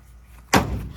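A strong gold-prospecting magnet snaps onto a truck tailgate with a single sudden metallic thunk, loud and close, after a moment of quiet.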